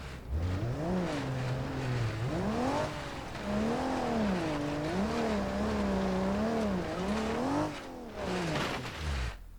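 A video game car drives toward a cliff with its engine revving up and down in repeated swells, the pitch rising and falling in waves before a short break and a final surge.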